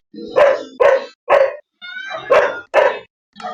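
Dogs bark outdoors in a quick series of about seven sharp, loud barks with short pauses between them, close by, with no talk over them.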